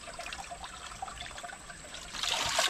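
Water trickling in a forest, a soft, steady dribble and gurgle that swells louder near the end, heard fairly quietly without voices.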